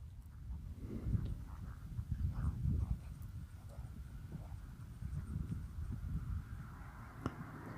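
A Fjord horse being ridden, its hooves thudding in an uneven, continuous rhythm at moderate distance, with some background rustle and no talking.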